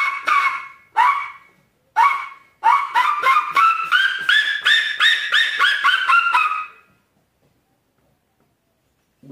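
A hand-blown bird-call whistle, a game-call lure, sounds a few separate short growling calls, then a rapid run of harsh rising notes for several seconds before falling silent, close and loud with no talking.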